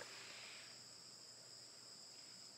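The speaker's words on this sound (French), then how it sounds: "On entend les petits grillons." Crickets chirping outdoors in a quiet countryside setting, a faint, steady high-pitched trill running continuously under low background hiss, with no talking.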